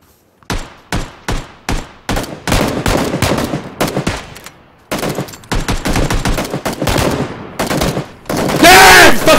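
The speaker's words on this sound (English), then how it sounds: "Let me know when you want to take shots." Gunfire in PUBG played with iron sights only: loud bursts of rapid automatic shots in uneven volleys, short gaps between them, and a dense final burst, no talk over it.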